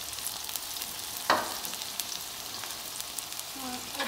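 Onions sizzle and fry in a pan while a wooden spoon stirs and mashes them, close up, with a steady hiss broken by a sharp scrape and soft knocks.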